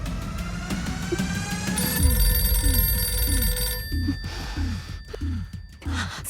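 A telephone rings repeatedly with a bright electronic tone, running steadily under breathy, anxious sighs and gasps from a nearby person, with no talking.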